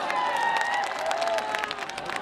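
An audience at a Bhojpuri music event claps and cheers, a dense, continuous wash of applause from a large crowd, loud and sustained.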